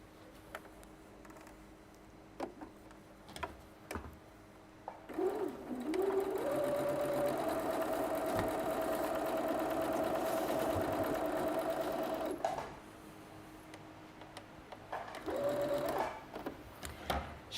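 A domestic sewing machine stitches a seam on a Christmas fabric panel: a steady, quiet whirring run of several seconds, with softer handling noises before and a brief second burst at the end.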